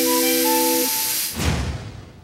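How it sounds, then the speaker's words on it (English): Hot air blower melting waterproof seam tape onto tent fabric as it passes through rollers: a steady loud hiss with a few whistling tones, breaking after a second into a rougher, lower rushing blast that fades. "As the fabric goes through the rollers, the tape is heated by really hot air"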